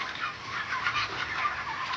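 Broiler chickens on a poultry farm holding about 2800 birds, a dense, continuous chorus of clucking and murmuring from many hens at once, moderately loud, with no voices.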